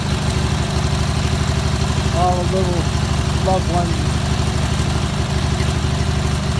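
A train engine idles with a steady, loud low rumble and vibration that stays unbroken throughout, while a voice speaks briefly over it partway through.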